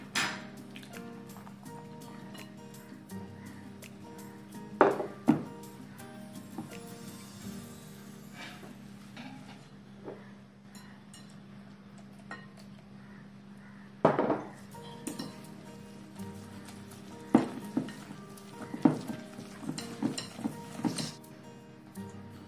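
Cupcake batter being mixed after a milk and vinegar mixture is added, soft wet stirring with repeated clinks and knocks of a utensil against the bowl, clustered in bursts with a quieter stretch between.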